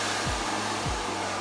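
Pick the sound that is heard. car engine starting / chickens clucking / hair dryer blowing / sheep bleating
hair dryer blowing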